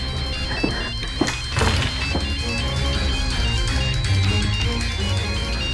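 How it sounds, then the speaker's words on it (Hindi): A mobile phone rings with a repeating electronic melody in a tense television crime drama scene, sounding loud and continuous alongside a few dull thumps, with no voices. "ये तो कांची का फोन है न"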